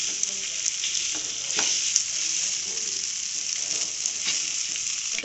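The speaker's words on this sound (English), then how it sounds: "Now mix it well." Spiced potato filling for kachori, mixed with roasted coriander powder and roasted cumin, sizzles steadily in a pan while a spoon scrapes and stirs it, a close, continuous hiss with soft knocks and no voices.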